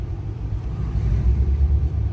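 A Ferrari Dino sports car on the road gives a loud, close, steady low engine rumble that holds without a clear rise or fade, with no voices.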